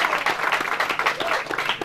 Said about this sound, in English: Please, let's clap to that.